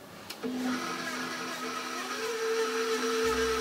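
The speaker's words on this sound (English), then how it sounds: "Then we're going to turn on the mixer and let the ingredients mix some more." A KitchenAid stand mixer switches on and runs, beating butter cookie dough with a loud, steady motor whir and a constant tonal hum close by.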